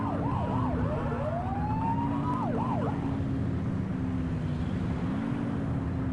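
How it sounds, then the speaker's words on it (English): A police car siren wails loudly and up close, sweeping through rapid yelps and then a long rising-falling tone for about three seconds before cutting out, leaving steady engine and road rumble with no talk. "Turn that siren off. We don't need it on right now."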